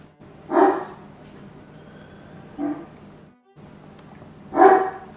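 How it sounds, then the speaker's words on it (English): A dog barks three times in separate bursts spaced a couple of seconds apart, somewhat distant and fairly quiet over a low steady room hum. "What is that dog going on about now?"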